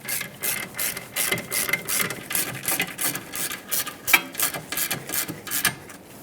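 A hand ratchet tightens caliper bracket bolts on a 2010-2017 Chevrolet Equinox, giving a steady, close series of quick clicking strokes in an even rhythm, with no talking.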